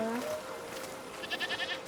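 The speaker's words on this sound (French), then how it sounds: "Il y a quoi par là? Des chèvres." Goats bleating in the video game A Plague Tale: Requiem, a quick run of short, wavering bleats close by after a fading voice.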